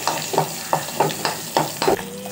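Shallots sizzle in hot oil while a spoon scrapes and stirs in a steady rhythm, about seven close, distinct strokes over a constant frying hiss, while making a curry leaf gravy.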